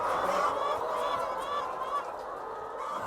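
Free-range hens crowding a multi-tier hen house make a dense, continuous chorus of clucking and calling, with no clear single bird and a steady moderate level throughout.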